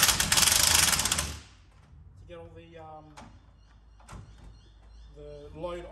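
Spring compressor clamps are tightened down on a strut spring removed from a car, producing a loud initial rasp followed by scattered metallic ratcheting and creaking clicks at close range.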